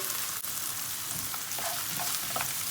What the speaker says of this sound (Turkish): soğanların kavrulmasını bekliyoruz